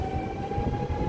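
A train rumbles past nearby, a continuous low rolling roar with a steady high tone running above it, with no voices.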